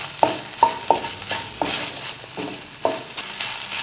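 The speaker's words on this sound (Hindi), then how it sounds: "बस इसको थोड़ा फ्लेम तेज़ कर लें, मिक्स करना है।" Bell pepper is stir-fried in a pan over a high flame, with a continuous sizzle punctuated by repeated sharp spatula strikes against the metal at an uneven rhythm, close up with no talking.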